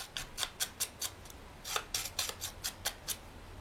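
Scissors snipping along the edges of paper to distress a large scrapbooking card, a series of quick, crisp close-up cuts in irregular bursts with short pauses between them, and no voices.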